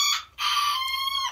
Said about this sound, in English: That was gonna be number three, is they have a teeny tiny crow.